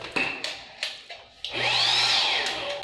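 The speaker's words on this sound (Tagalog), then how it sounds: "Malakas yung blower nila dito." A powerful hair dryer in a hotel room switches on and roars steadily with a rising whine for over a second, after a few knocks and handling sounds.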